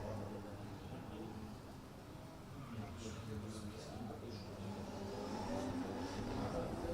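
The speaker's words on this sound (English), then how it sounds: "he's sent back to warm up the tyres after that little wait" Nissan 350Z drift car engine at a drift competition in Oman, a distant steady drone rising slightly as the car heads off to warm its tyres, under continuous commentary.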